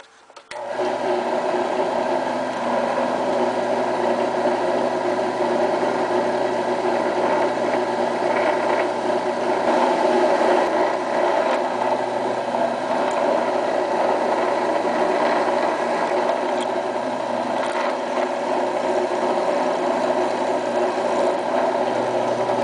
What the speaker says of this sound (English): we've drilled out the pin there